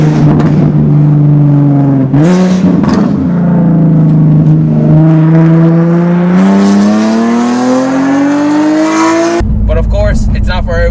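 A loud Nissan 370Z NISMO with a street-legal, track-tuned 380 hp setup and a very loud exhaust, its engine revving with rising and falling pitch, then cutting to a harsh blare near the end.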